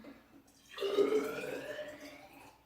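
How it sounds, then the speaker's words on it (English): Water pours from one container into a taller one. A quiet lead-in gives way to a sudden splashing pour that gradually thins out over about two seconds. "And now I'm going to pour the rest into my taller one."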